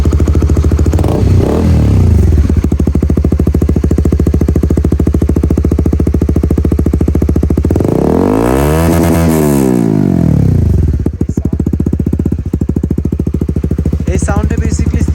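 A 2021 Honda CBR 150R fitted with a Ronin Hanjo exhaust runs in sports mode. It holds a loud, close, steady burble, rising in one rev and falling back midway, with a voice faintly present.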